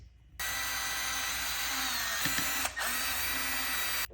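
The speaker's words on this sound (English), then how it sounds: "Now we can actually go ahead and put these screws back in." An electric drill or power screwdriver drives screws back into a servo mount on a Traxxas Sledge RC truck, a steady close whine running almost continuously with a brief dip near the end.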